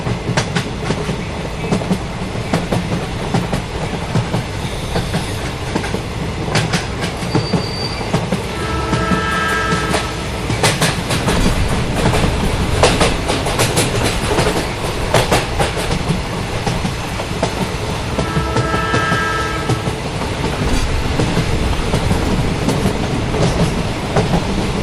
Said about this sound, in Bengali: তারপর প্ল্যাটফর্মে ট্রেন আসার পর আমরা সবাই মিলে